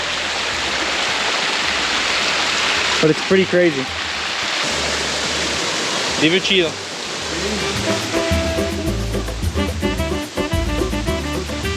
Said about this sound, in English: This water running down these steps is only because of the rain that we've just gotten.